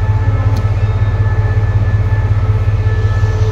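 A train stands at a railway station in Thailand, its engine idling in a loud, steady, low droning hum that holds throughout, with a faint brief click near the start and no voices.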